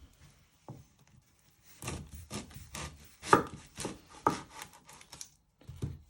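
Knife strokes cut through a flattened onion on a chopping board, producing a handful of close, dull thuds and scraping rubs in an uneven rhythm, with no talking.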